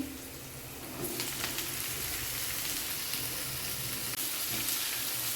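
Onion and chana dal frying in a pan for a tindora (ivy gourd) curry, a steady close sizzle and crackle that thickens after the first second and holds evenly throughout, with no talking.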